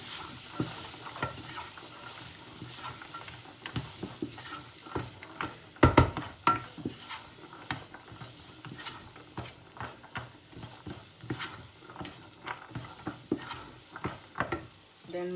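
Sliced peppers frying in a hot pan while being stirred, giving a steady soft sizzle broken by repeated scraping and clattering strokes of the spoon, with one sharp clack near the middle.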